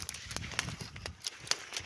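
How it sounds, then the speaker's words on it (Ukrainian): Goats being herded out of a shed on a snowy day, their hooves clattering in a quick, irregular patter of close clip-clop steps. "Давай, давай, кози, виходимо."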